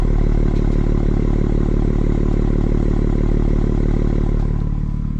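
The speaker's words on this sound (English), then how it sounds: "But listen to this idle. It sounds pretty good at idle with the valves open." A BMW M2 G87 with a single midpipe exhaust idles with the valves open, giving a loud, steady, deep burbling rumble close by and uninterrupted throughout, with no voices.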